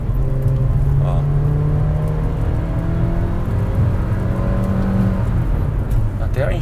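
A Nissan Kicks with the 1.6 naturally aspirated engine and CVT pulls under heavier throttle, a steady droning engine note holding and slowly rising in pitch without stepped shifts, with cabin road noise underneath.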